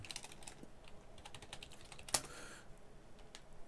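Quiet keystrokes tap out a short command on a computer keyboard, a scattering of faint clicks with one sharper press near the middle, no voices over them.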